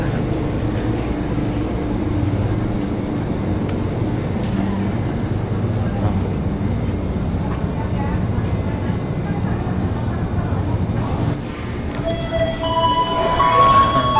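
Ambience of a train line at Nambo railway station, a loud, steady low rumble of moving rail cars that keeps going throughout, with faint tonal whines and squeals rising near the end.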